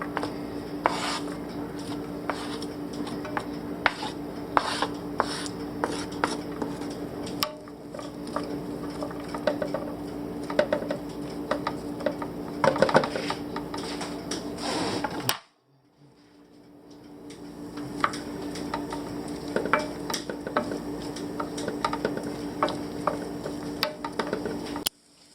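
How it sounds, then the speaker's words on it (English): Onions and bratwurst sauté in olive oil in a pan, giving a steady soft sizzle with scattered clinks and scrapes of a utensil against the pan, briefly dropping out midway before resuming. "we're going to saute these until they're as brown as we want them"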